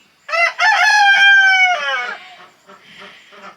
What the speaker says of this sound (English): And we're naming this rooster Mr. Gary.